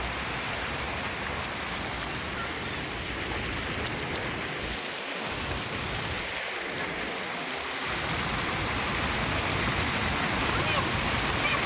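A swollen river runs in spate on the third day of very heavy rain, giving a steady, dense rush of flowing water that fills the whole scene at an even, loud level, with faint voices now and then.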